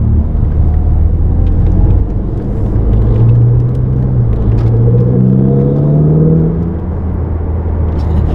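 Prior-Design Ferrari 488 GTB engine on the Autobahn, a loud steady rumble with a rising and falling whir as the car accelerates, heard from inside the cabin with no talk.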